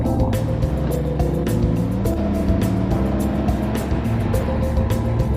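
A steady, loud motor drone from a Can-Am Ryker Sport three-wheeled motorcycle making a U-turn, with a rhythmic engine throb and sharp intermittent ticks, holding constant throughout.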